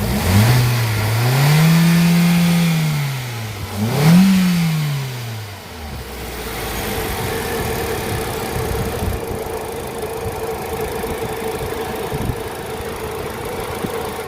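A Hyundai i10's engine revs up twice, close and loud, the pitch climbing and falling each time, then settles into a steady, rough idle with no talking.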